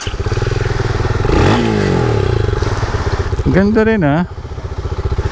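A RUSI Classic 250i manual motorcycle runs while being ridden, with a steady, close engine thrum and a rising rev partway through. A rider speaks briefly over it.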